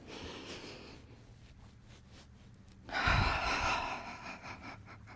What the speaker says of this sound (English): The biggest breath you can take in that abdominal cavity. Exhale.